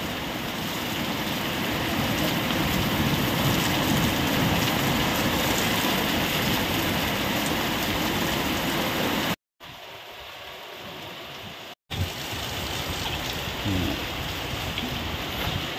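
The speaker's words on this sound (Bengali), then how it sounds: "এতক্ষণ হচ্ছে গিয়ে বৃষ্টি হচ্ছিল, কিন্তু হাওয়াটা কম ছিল, এখন দেখো হাওয়া হচ্ছে।" Steady heavy rain during a night storm as the wind picks up, a dense continuous wash of noise close by with two brief dropouts near the middle.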